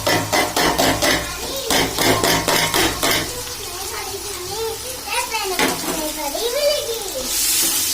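Masala is sautéed and stirred in a pan for country chicken biryani: rapid, rhythmic scraping strokes of a spoon against the pan over a frying sizzle. The stirring slows and a voice talks over the cooking.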